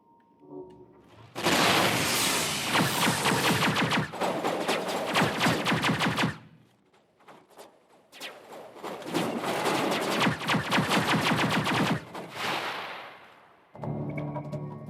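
Rapid automatic gunfire in Mass Effect Legendary Edition, mercenaries and a marine trading shots in two long, loud sustained bursts separated by a short lull, with another burst starting at the end.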